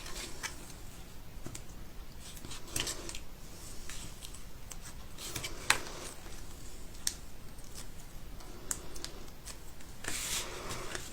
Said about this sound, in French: Je mets de l'adhésif à l'extrémité.